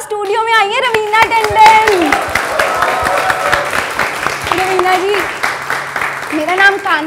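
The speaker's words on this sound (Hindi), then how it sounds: "बच्चों जोर से तालियां बजाओ" Children clapping loudly in a TV studio, a dense burst of applause that runs under excited talk for the whole stretch.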